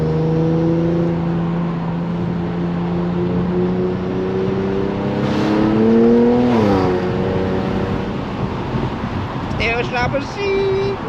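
Slammed Infiniti Q50 Red Sport driven at night, a loud steady engine drone from inside the cabin that climbs in pitch under acceleration, then eases, with a brief high chirping near the end.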